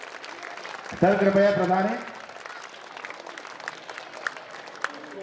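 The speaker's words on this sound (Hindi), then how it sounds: "हमारे जोरदार तालियों से राजेश सोनी सर का स्वागत हो जाए।" Applause from an audience welcoming a guest at a school alumni meet, a loud burst of many hands lasting about a second, then fading under a voice speaking over a hall microphone with occasional claps.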